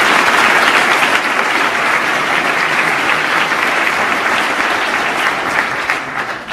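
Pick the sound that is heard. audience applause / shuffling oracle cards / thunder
audience applause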